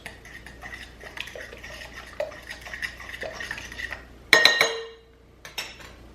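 Banana bread batter with a pinch of salt stirred in a bowl, a soft scraping rhythm with small clinks, then a bright clang of the utensil against the bowl near the end; close, no talking.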